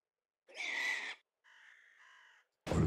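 Loud crow-like caws from birds in a farming video game: one harsh squawk, then a flatter, quieter call, then the start of another cry, all close by with no talking.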